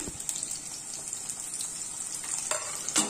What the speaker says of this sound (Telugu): ఇదిగోండి ఆయిల్ హీట్ ఎక్కింది. ఇప్పుడు దీంట్లో జీలకర్ర, ఆవాలు, తర్వాత ఈ తరిగి పెట్టుకున్న ఉల్లిపాయ ముక్కలు